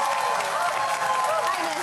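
Studio audience applause on a German TV cooking competition, a brief burst of steady clapping from a crowd, fairly even and moderately loud throughout.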